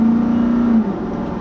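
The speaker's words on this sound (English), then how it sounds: "this truck definitely moves out with a lot of authority when you have the revs in the right range" A 2016 Nissan Titan XD V8 diesel pickup engine drones loudly and close as it accelerates, holding a steady pitch under load before easing off into a lower rumble.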